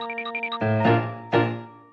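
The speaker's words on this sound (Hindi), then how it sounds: "घंटी बजाओ" A small bell rings twice, each strike bright and sustained with a long ringing decay, following a quick series of short chime-like tones.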